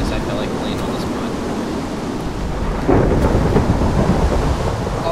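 Lightning and thunder in a tornado mod video game roll as a loud, continuous rumble over steady rain, swelling with a fresh heavy crash near the end.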